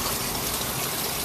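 Water pours from a clear pipe and cascades down a vertical aquaponic garden of plant pockets, making a steady, loud, continuous gushing rush with no voices.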